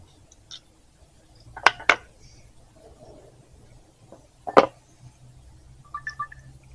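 A Remington ScoreMaster 511 .22 rifle is taken apart by hand, giving a few sharp metallic clicks and snaps spaced apart in a quiet room, with faint handling noises between them.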